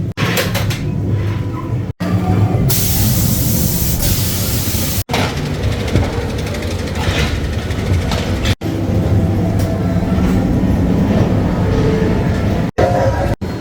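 A ghost train ride car at Blackpool Pleasure Beach rumbles and clatters steadily along a track, with loud mechanical rattling and a few sharp bangs and bursts of noise along the way.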